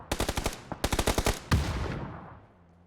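Automatic gunfire in PUBG during a pro scrim match, two rapid bursts of close shots followed by a single heavier blast that rings out and decays, with no talk.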